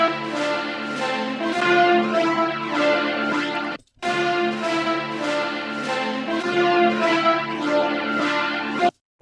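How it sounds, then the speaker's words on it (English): A music sample run through an Eventide rotary mod plugin on a spinning preset, giving a dense, harmonically rich sound a swirling phasing motion, steady and full, with a brief dropout midway and a cut at the end. "What's definitely different in this sample is that we have a phasing effect."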